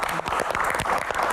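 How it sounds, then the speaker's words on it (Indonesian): Audience applause at a Q&A stage session, dense steady clapping from a crowd, close and even throughout with no break. "Wow, tepuk tangan."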